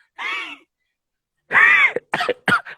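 A voice imitates a wheezing breath: a short strained exhale, a pause, then a longer rasping wheeze followed by three quick choppy gasps, close and fairly loud.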